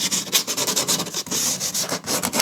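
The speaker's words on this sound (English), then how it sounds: "just sand it a little bit." Sandpaper is rubbed by hand over a wooden sign, making a loud, close, raspy scratching in quick back-and-forth strokes that repeat steadily with only tiny gaps.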